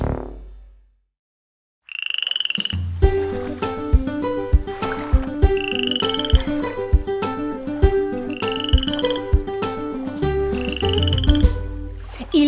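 A toad croaks in an Italian children's song, repeated rhythmic croaks set into a bright, busy musical backing with chimes and percussion after a brief silent start.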